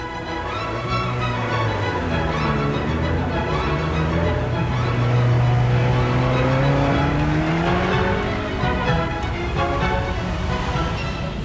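A Ferrari 355 engine revs hard, its pitch climbing and sweeping up and down in loud, close bursts.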